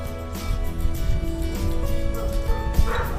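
A young puppy yips and barks in quick, excited bursts at close range, with a steady rumble of background noise underneath.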